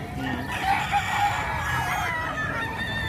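Fighting roosters crow at a gamecock market in Bocaue, Bulacan, several overlapping calls rising over background clucking and crowd murmur.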